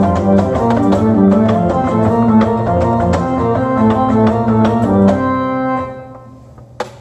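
A pipe organ at Round Lake plays the pedal solo from Bach's Toccata in F. Loud, sustained, rich tones move through a line of notes and then fade out near the end.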